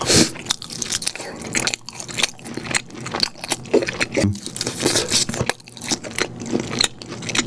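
Burger King bacon is bitten and chewed close to the mic, with crisp repeated crunches and wet chewing in an irregular rhythm, no one talking.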